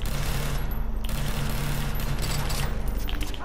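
Sustained automatic gunfire in the Far Cry 3 video game, a loud, rapid, continuous fusillade of shots that rattles on without pause.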